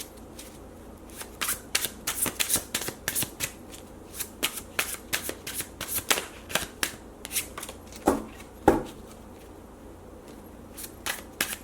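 A deck of matte tarot cards is shuffled close up, with irregular riffles and sharp snapping bursts recurring through the whole stretch and no talk.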